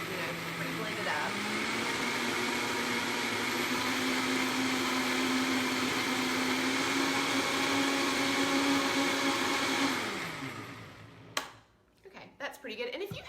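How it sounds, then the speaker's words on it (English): A kitchen blender whirs steadily for about ten seconds while blending a spinach or kale smoothie, its motor humming loud and even before it shuts off and winds down, followed by a few clunks and rattles. "So I just blend it really quickly until that's pretty blended up."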